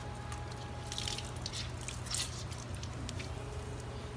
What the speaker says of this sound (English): you're just squeezing out clean water